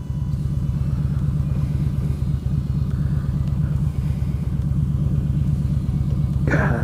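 A 2015 Yamaha Stryker motorcycle idles in neutral with a steady, close, deep pulsing rumble throughout, ending with a brief rattle.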